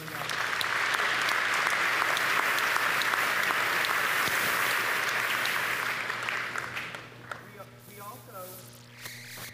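Audience applause at a college convocation, a dense, sustained roar of clapping from a large hall that fades out after about seven seconds, followed by brief talk and rustling.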